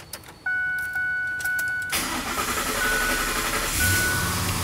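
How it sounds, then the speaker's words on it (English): A truck engine cranks and catches after an ECU reset, preceded by a few steady electronic dashboard chimes, then settles into a loud, close, continuous running rumble with no talking. "now we can try starting the truck"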